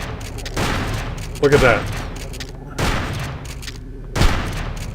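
Gunfire in the video game Hunter: The Reckoning, several loud bursts of shots spaced a second or so apart, close and booming, with someone talking briefly between them.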